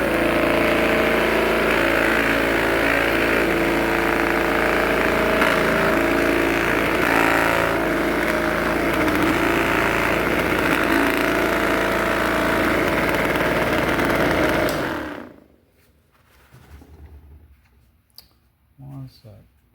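A cartridge case tumbler runs with a loud, steady mechanical hum and rattle for about fifteen seconds, then cuts off, leaving quiet room noise with faint clicks.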